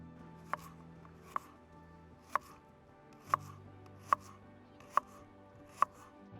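An onion being roughly chopped with a sharp hunting knife outdoors, seven crisp, separate blade knocks against a board at irregular intervals, close and quiet in the background.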